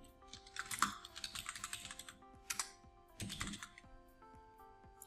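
Computer keyboard typing in several quick bursts of clacking keystrokes, close and clear, with short pauses between runs of keys and no voices.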